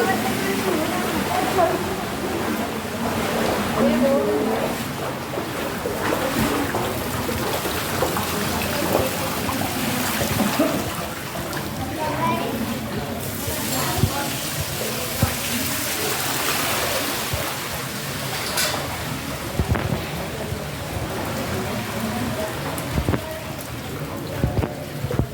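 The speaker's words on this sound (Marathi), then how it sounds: "काल परवाच्या पावसामुळे भांदूर गल्ली जवळील मरगाई मंदिर जवळील गटारी साफ न केल्यामुळे गटारीचे व पावसाचे पाणी रस्त्यावरून वाहू लागले आहे" Rainwater and overflowing drain water rush steadily along a street near Margai temple in Bhandur Galli, Belgaum, a continuous loud wash with a voice talking over it throughout.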